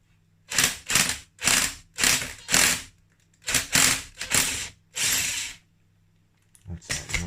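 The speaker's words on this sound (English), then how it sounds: "So now we'll get this nut off." The primary drive nut on a 2000 Yamaha DT125R motorbike engine being removed anti-clockwise, heard as about nine loud, close bursts of rapid mechanical ratcheting separated by short pauses.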